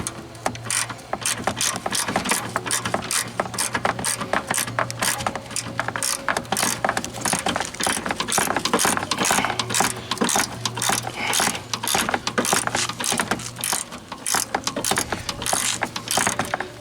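A ratchet loosening the AC condenser bolts on a 2007 Honda Civic during radiator replacement makes a fast, continuous ratcheting clicks that stay loud and close for the whole stretch, with a low hum underneath.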